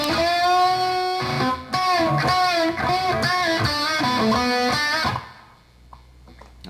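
Electric guitar plays a riff alone, with bent notes sliding up in pitch and a sustained, slightly driven tone; a loud phrase runs about five seconds before fading into quiet.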